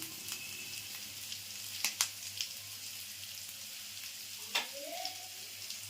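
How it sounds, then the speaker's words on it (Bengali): Panch phoron spices and chopped ginger fry in oil with a steady, close sizzle punctuated by a few sharp crackles and pops, with no talk. "ছোট 1 চামচি 5 ফোড়ন দিচ্ছি, বড় 1 চামচি আদা কুচি দিচ্ছি"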